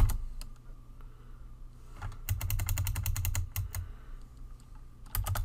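Fingers type HTML code on a computer keyboard in quick bursts of clicky keystrokes, a sparse start giving way to a dense rapid run, close and moderately loud over a low hum.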